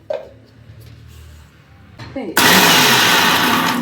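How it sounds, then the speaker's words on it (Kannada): A mixer grinder switches on and roars loudly while grinding ginger and green chillies, a sudden sustained whir that follows a quiet lead-in with some handling noise. "ಸ್ವಲ್ಪ ಶುಂಠಿ ಗ್ರೈಂಡ್ ಮಾಡ್ಕೊಳ್ತೀನಿ."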